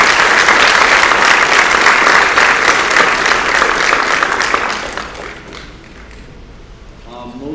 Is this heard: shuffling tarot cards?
no